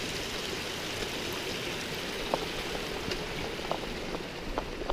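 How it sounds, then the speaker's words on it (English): Running water of a forest stream in Colorado's Indian Peaks Wilderness rushes steadily and close by, a constant broadband wash with faint splashes and no voices. "Got water running."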